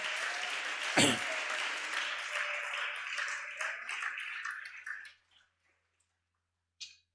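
A church congregation claps and cheers for Jesus in a loud burst of applause that fades out after about five seconds, followed by a brief faint patter.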